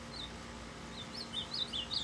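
Small pet birds chirping, faint high tweets coming in short scattered bursts over a quiet indoor background hum.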